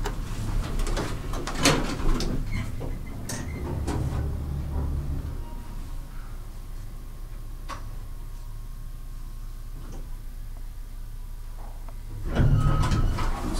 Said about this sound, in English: It's overhead drive. Neat old elevator.